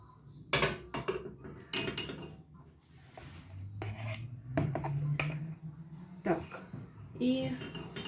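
Oat pancake batter is scooped and placed onto a hot oiled frying pan, heard as scraping spoon and utensil clinks against the pan, close and moderate, with someone speaking over it.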